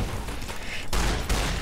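Shotgun blasts in the video game Fallout New Vegas, a couple of sharp booming reports over a rumbling game backdrop, the second burst louder and closer.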